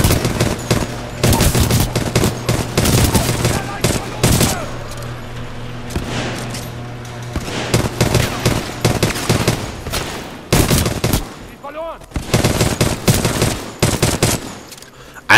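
Rapid bursts of gunfire crack and rattle in Titanfall 2, loud repeated volleys broken by short pauses and a brief lull midway, with faint game voices underneath.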